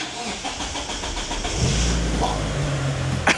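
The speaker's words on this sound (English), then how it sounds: "Straight away, just starts just like that." Mitsubishi Evo engine cranking and catching after 17 years unused, running low on fuel; a brief starter churn gives way to a steady idle that rumbles close by and loud, ending in a sharp click.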